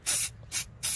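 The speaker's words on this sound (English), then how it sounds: "spraying them because the mites are on them and I don't want the mites to spread." Three quick hissing bursts from a hand spray bottle misting houseplants infested with spider mites, close up and evenly spaced with brief pauses between.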